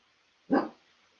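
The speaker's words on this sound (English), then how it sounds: "you can hear my dog. As soon as she hears PowerPoint, she starts barking" A pet dog gives a single sharp bark, close and fairly loud, standing alone against a quiet room.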